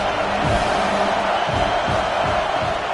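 Stadium crowd at a college football game against Michigan State roars in a dense, steady wash of noise, loud and sustained, with faint shouts rising from the stands.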